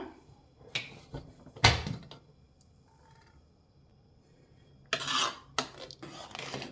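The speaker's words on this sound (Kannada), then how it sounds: "ಲಿಡ್ ಓಪನ್ ಮಾಡೋಣ" A cooled pressure cooker has its lid worked open, giving a few sharp metallic clanks and scrapes with quiet gaps, then a longer rattling burst near the end.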